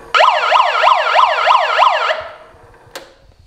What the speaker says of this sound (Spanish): y la de sirena